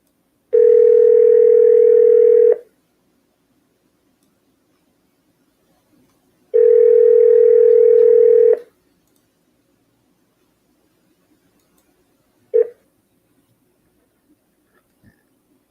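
A desk phone gives two steady tone bursts about two seconds long, separated by silence, followed by a short blip, heard clearly with no talking.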